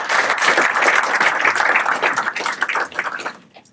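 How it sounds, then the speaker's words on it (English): A room full of people applauds loudly, steady clapping that tapers off toward the end. "we should give Mike Manley the second round of applause"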